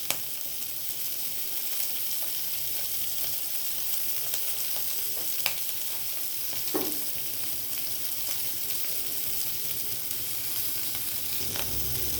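Chilli chicken sausage frying in a pan as tomato sauce goes in, a steady close sizzle with faint scraping stir sounds and a few small clinks, no talk.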